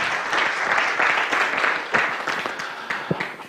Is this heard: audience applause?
yes